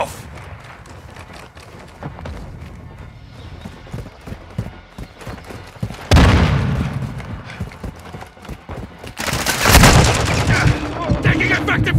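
Call of Duty: Modern Warfare II multiplayer gunfire: rapid rattling bursts of automatic weapons and heavy explosive blasts, loud and close, with loud surges around the middle and near the end, under game voice callouts.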